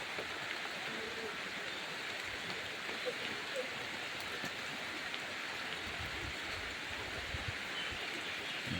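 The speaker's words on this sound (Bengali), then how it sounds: "বর্ষায় ভিজে যাচ্ছি" Monsoon rain pouring outdoors in a waterlogged village, a dense, steady hiss of drops on surfaces that continues evenly from start to finish without pauses.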